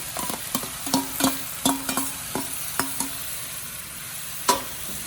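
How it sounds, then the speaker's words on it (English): Chopped tomatoes sizzle in a frying pan while a utensil stirs and scrapes in a quick run of close knocks, followed by a single louder clack at the end. "Now I'm going to add my tomatoes that I chopped up"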